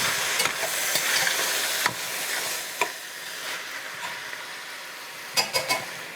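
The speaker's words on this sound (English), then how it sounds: "Now, I'm going to throw these beautiful vegetables in. Going to stir it up." Vegetables being stirred into a pot of Dominican-style stewed chicken, a steady sizzle with scraping strokes and a few sharp clatters near the end, close and moderately loud, no talking.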